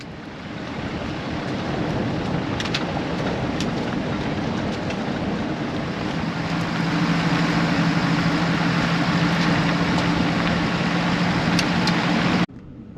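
A truck drives several miles out a gravel road toward the Twin Arches trailhead in Big South Fork National River and Recreation Area, giving a steady, loud broadband rumble with a low engine hum. The rumble stops abruptly near the end.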